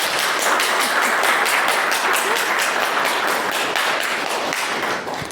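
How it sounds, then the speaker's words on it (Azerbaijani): A room full of people bursts into dense, sustained clapping at the launch of an ACPM international accounting diploma. The applause is loud and close, with no talking over it, and it tapers slightly at the very end. "bir dənə Orxan bəyi ruhlandırmaq üçün biraz alqışlayaq onu"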